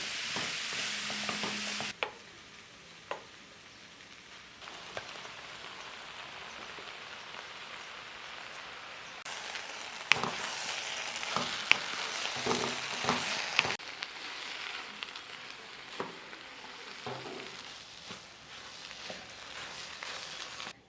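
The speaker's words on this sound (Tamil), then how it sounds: "நம்ம உருளைக்கிழங்கை சேர்த்து நல்லா வதக்கி எடுத்துக்கலாம்." Onion with green chilli and potato pieces sautéing in a pan, a steady close sizzle with scraping stirs and occasional clatters, no voices.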